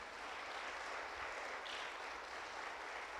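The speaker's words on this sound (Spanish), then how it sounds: "¿Cuántos le dan palmas a Jesús?" A church congregation claps together during a Resurrection Sunday service, a steady, even wash of many hands with no pauses across the short stretch.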